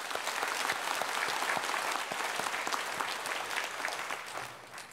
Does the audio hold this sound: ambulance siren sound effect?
no